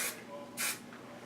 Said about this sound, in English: I'm going to spray this part like back a little bit